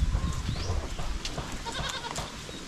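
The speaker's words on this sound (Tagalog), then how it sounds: "Mga gwapong kambing sila." Goats bleat repeatedly, overlapping calls close by, with some rustling and movement noise in the background.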